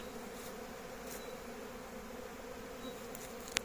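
Honeybees hum in a continuous, even drone around a hive, with a brief sharp click near the end.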